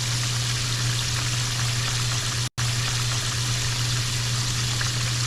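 Catfish fillets frying in hot oil at about 296 degrees, a steady, close sizzle with a faint low hum beneath it, broken by one very brief dropout midway, with no talking.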